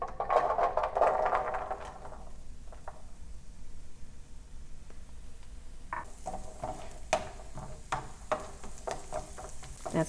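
Celery hitting melted butter in a soup pot, first a burst of loud sizzling, then a quiet crackling fry with scattered stirring clicks and scrapes, close by.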